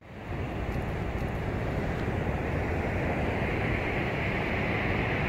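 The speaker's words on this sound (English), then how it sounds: "Despite the loud, noisy waves." Loud ocean waves near a coastal lighthouse point on a trek make a continuous broad roar of surf that builds in the first half second and then holds steady, with no talking.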